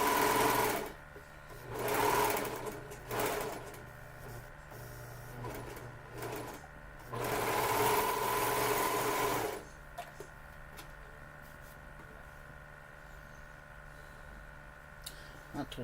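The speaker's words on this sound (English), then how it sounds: "because I'm using my serger, so what does it matter?" A serger sewing machine stitching fabric in several bursts of fast, steady whirring, with short pauses between runs and a longer stretch near the middle, a faint hum between bursts.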